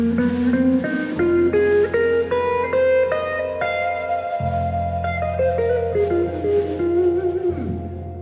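A blues-scale line wanders over an F blues progression, the melody weaving above a steady low bass and chords, played continuously without talk.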